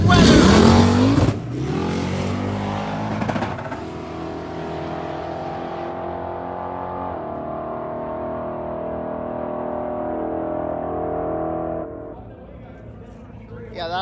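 A drag racing car making a pass at Sick Week, a loud engine roar that swells, then holds a long, steady drone before fading.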